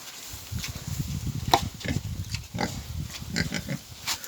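A young Duroc gilt in heat for the first time, not yet bred, makes repeated close grunts and short squeals at an irregular rhythm, with occasional knocks and shuffling in the pen, at moderate loudness.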